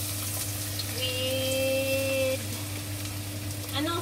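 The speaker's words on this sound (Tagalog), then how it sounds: "Patatas lang guys, pinirito." Potatoes fry in a pan as German Bratkartoffeln, a moderate steady sizzle with a brief whistling tone and a low hum underneath, no one speaking.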